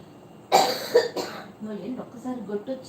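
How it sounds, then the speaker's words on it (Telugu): Two sharp coughs burst out close by, followed by a short stretch of quiet speech. "దగ్గు వచ్చింది చూసుకో"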